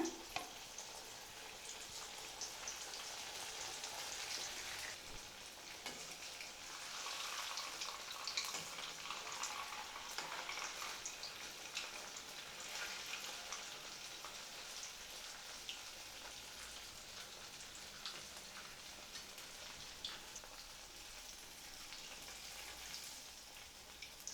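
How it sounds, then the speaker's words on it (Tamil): Steady, crackling sizzle of cut idli pieces deep frying in hot oil, with bubbling and popping throughout and no talking. "இதில் நம்ம கட் பண்ணி வச்சுருக்கக்கூடிய இட்லியை போட்டு பொரித்து எடுத்துடலாம்."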